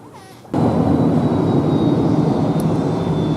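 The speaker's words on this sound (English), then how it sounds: "What a great place to stand for plane spotters" Aircraft at Zurich Airport roar in a loud, sustained wash of engine noise after a brief quieter moment, a broad steady rumble with no talking.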